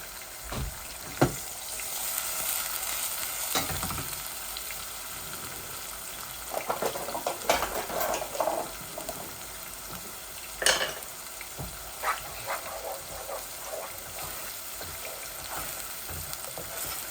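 Garlic frying in a pan, a quiet continuous sizzle with occasional stirring clicks and utensil taps, no talking.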